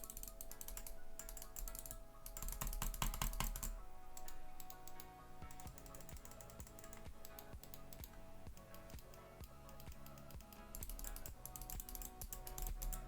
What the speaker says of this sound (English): You've also got some mechanical Omron switches for your mouse clicks, and yeah, let's go ahead and do a quick sound test as well